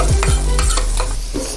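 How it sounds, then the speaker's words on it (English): Onion sautés in hot oil in a preheated wok, a loud close sizzle with a few quick scraping stirs over a brief moment, no talking. "When the oil is hot, saute the onion first."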